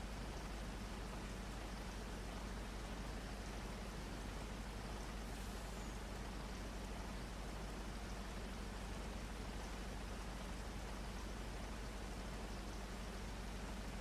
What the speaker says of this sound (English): all we've got to do now is wait for the rain to stop